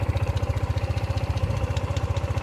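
A Honda ADV 150 scooter engine starts and idles close by with a fast, steady, even putter.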